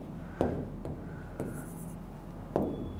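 Chalk or marker tapping and scratching on a board during a biology lesson on cells, with four short strokes spread through a quiet room and no speech.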